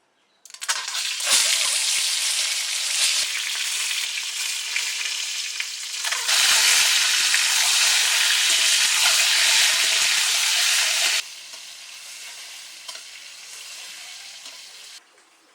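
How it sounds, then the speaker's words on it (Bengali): Eggs, including double-yolk ones, fry in hot oil in a pan with a loud, dense hissing sizzle that surges in strength, then settles to a quieter sizzle near the end. "ডিমগুলো এখন ভেজে নেবো"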